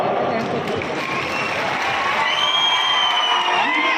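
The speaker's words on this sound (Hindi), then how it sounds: "ताली बजाने के लिए तैयार हो जाओ।" Applause and cheering from a large audience at an Indian political rally: a dense, steady wash of clapping and crowd noise that holds loud for the whole stretch, with a voice carrying over it.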